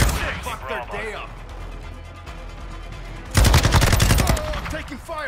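Rapid automatic gunfire and explosive bursts from the video game Call of Duty: Modern Warfare II, a steady rattle that swells louder and denser midway, with game voice callouts over it.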